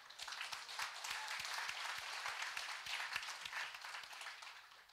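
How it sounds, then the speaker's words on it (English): Applause at an IMF seminar on empowering women in the workplace rises and holds, clearly distinct hand claps running through a soft, fairly distant wash of clapping for about five seconds. "I think we should give applause on this"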